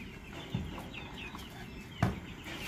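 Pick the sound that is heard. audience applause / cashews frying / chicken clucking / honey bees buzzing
chicken clucking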